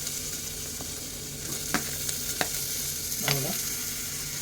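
Tomatoes sautéing in oil with browned onions for a homemade ghevda (broad bean) vegetable dish give off a steady close sizzle, broken by a few sharp clinks and scraping stirs of a spoon against the pan.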